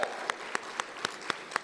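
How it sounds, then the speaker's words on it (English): A few hands clap in a slow, even rhythm at an event, about seven distinct claps spaced roughly a quarter second apart over a quiet background. "So can we get a round of applause for Clarissa?"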